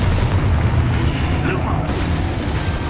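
The Confringo fire spell explodes in Hogwarts Legacy as a loud, sustained rumbling boom with crackling bursts, set among game effects and faint voices.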